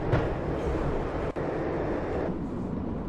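A train from the Max Payne video game rolls along with a loud, dense rumble and steady rattle, close and continuous, with one brief dropout partway through and the noise easing slightly near the end. No voices are heard.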